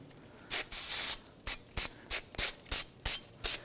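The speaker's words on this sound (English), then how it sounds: "We're going to go ahead and use some brake parts cleaner." Brake parts cleaner sprayed onto the rear brakes of a 2010–2017 Chevy Equinox in a series of about nine short, close, hissing bursts with brief gaps between them and no talking.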